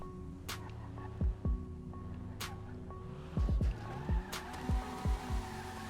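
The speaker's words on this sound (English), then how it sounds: "It looks like it does get a little slidey around the corners." In GTA Online, a rear-wheel-drive Vapid Retinue MK2 slides through corners, its tires squealing in repeated short bursts over a steady engine drone, with no voices.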